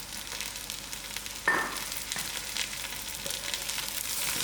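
Whole black pepper, garlic, chilies and thyme dropped into hot oil, with a sudden sizzle burst that settles into a gentle, steady frying hiss heard close up, without speech.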